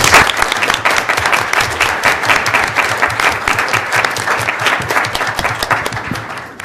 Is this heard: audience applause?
yes